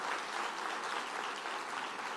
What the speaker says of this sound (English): put your hands together and give them all a big round